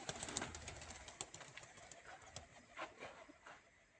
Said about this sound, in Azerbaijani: Yedi dənə quşumuz qalxdı